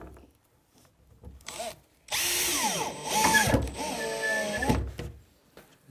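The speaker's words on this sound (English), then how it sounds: "You can take a cordless screwdriver and drive them in." A cordless screwdriver drives screws into pre-drilled holes in bath legs, whirring in a loud sustained burst for about three seconds with rising and falling pitch, preceded by quieter handling clicks.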